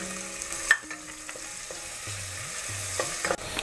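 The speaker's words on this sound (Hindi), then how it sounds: "तो ये प्याज भून रहा है" Onions sizzle and crackle steadily in a hot pan, with a few scraping stirs of a utensil and occasional clinks, close up and without talk.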